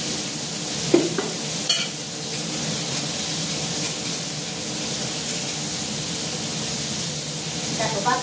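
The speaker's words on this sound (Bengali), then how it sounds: "মোটামুটি চচ্চড়িটা আমার ভাজা হচ্ছে, খুব সুন্দরভাবে ভাজা হয়ে গেছে" Vegetable chorchori fries in a pan, a constant close sizzle with occasional stirring scrapes and clinks of a utensil, and brief soft talk near the end.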